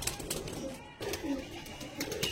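Andhra pigeons coo close by in soft, low, repeated rolling calls over a steady background murmur.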